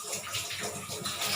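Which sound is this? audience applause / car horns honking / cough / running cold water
running cold water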